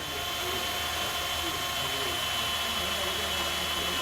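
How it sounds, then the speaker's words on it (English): A drill bores pilot holes during an Air Lift LoadLifter 5000 air helper spring install on a 2018 vehicle, a continuous loud whirring whine that holds steady throughout without pause. "we can come back with a pilot drill bit and drill out two pilot holes"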